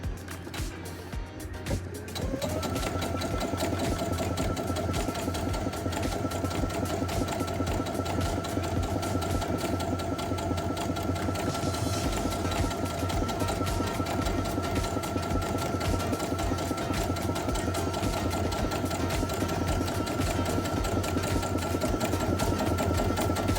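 A sewing machine runs steadily, stitching along the edge of the fabric for a zippered pouch, with a close, continuous mechanical whir after a brief start.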